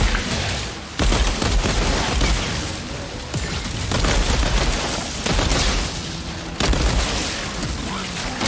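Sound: gun firing in video game Outriders

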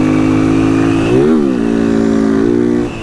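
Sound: motorcycle revving for a wheelie

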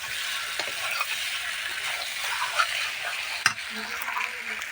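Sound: stirring mutton frying in a kadai

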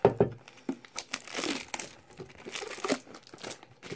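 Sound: ripping open Pokemon card tin packaging

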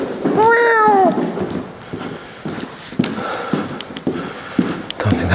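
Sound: cat meowing in abandoned resort

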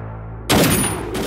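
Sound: gunshot fired in a lockup, movie sound

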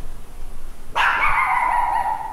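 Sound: security guard dog barking

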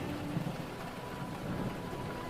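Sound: rain pouring on a tin roof

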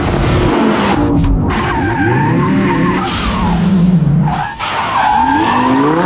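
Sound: Lamborghini with hydraulic handbrake drifting, tires skidding

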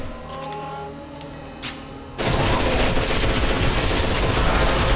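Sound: gunfire shots in F.E.A.R. 2 video game

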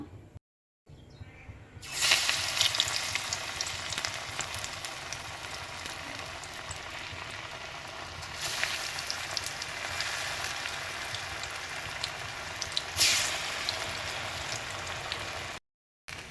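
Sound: chana dal vadas frying in hot oil

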